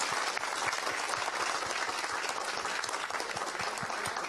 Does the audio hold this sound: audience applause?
yes